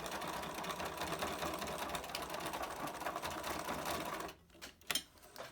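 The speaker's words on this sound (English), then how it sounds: "Now you've got a lot of fabric here going through the machine, so it might complain a little bit." A sewing machine stitches through thick layers of fabric while a filter face mask is being made, running as a steady, close, rapid mechanical whir before it slows and stops, followed by a few short clicks and knocks.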